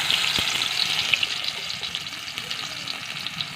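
Onion and garlic frying in mustard oil, a close, continuous crackling sizzle with faint stirring and no voices.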